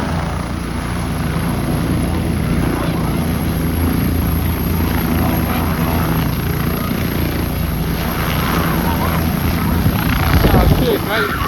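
A helicopter lifting off nearby, its rotor chop and engine whine steady and loud throughout with wind buffeting the microphone, swelling slightly near the end; a voice is heard briefly.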